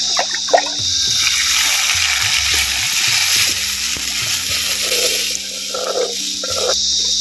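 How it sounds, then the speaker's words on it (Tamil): Tamarind water mixed with stone-ground masala being poured for a village-style fish curry, a continuous watery splashing and trickling close by, with faint knocks of the vessel. "கரைச்ச புளித்தண்ணி மசாலா வந்து சேர்த்துக்குவோம்"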